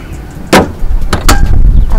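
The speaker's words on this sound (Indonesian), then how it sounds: "jadi nutupnya kayak dipencet gitu, terus bunyi klik, berarti udah kekunci" A Lamborghini LP 560-4 trunk lid is pressed shut and clicks locked, giving a few sharp, close thumps and clicks spaced across two seconds over faint background noise.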